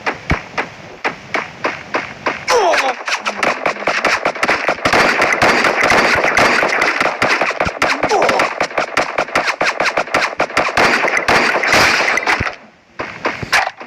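Dense, rapid gunfire in a battle royale video game, loud and close, with sustained cracking volleys of shots for about ten seconds and scattered single shots before and after, no talking.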